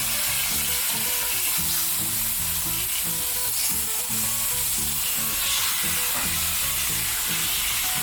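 Pork chops searing in a hot pan, producing a loud, dense, unbroken sizzle and spatter that holds steady from start to finish, close up and with no talking.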